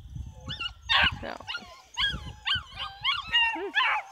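A small pocket beagle stud dog whimpers and yips close up, giving a series of high, wavering whines and short squeaky cries with a faint voice or two underneath.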